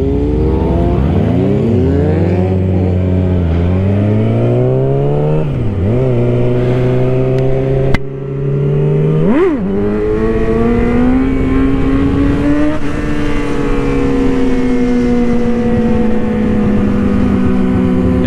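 Loud dirt bikes ridden close by, engines revving hard with pitch sweeping up and down through gear changes, a continuous roar filling the whole stretch.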